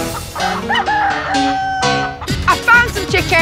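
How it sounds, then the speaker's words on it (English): Chickens cluck and crow in a farm barn, several birds calling close by in an overlapping, busy chorus with sharp harmonic calls, loud and continuous. "I found some chickens."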